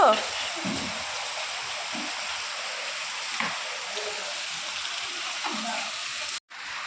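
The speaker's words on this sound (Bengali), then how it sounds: "বাইরে হচ্ছে অসম্ভব বৃষ্টি" Heavy rain falls outside, heard as a steady, even hiss from indoors, with faint voices speaking intermittently beneath it.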